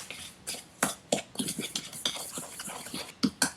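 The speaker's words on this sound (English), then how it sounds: "I'm going to stir that up with a spoon" A spoon stirs quince pieces in a pot for a gluten-free pie, irregular scraping and clattering knocks of metal against the pot, close and fairly loud, with no speech.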